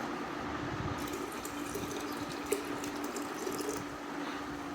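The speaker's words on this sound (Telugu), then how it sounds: "ఈ చింతపండు చారు మనము ఉగాది పచ్చట్లో పోసుకోవాలి బెల్లం నీళ్ళల్లో." Tamarind water poured into jaggery water while making Ugadi pachadi, a faint continuous trickling pour lasting several seconds at low level, with no talk.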